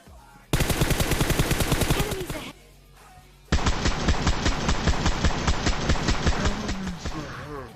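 Rapid automatic gunfire in a battle royale video game, two long bursts of loud, evenly spaced shots split by a short quiet gap, with no talk over them.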